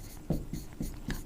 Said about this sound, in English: you should write